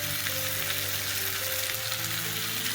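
Spices sautéing in a pan, a steady close sizzle and crackle of frying masala running continuously with no talk.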